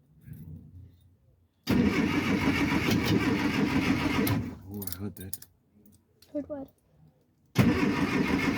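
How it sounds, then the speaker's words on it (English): A Classic Mini's engine cranks and starts, running loud and rough for several seconds, cutting out, then firing again near the end; people talk briefly during the quieter gap. "The engine's shaking."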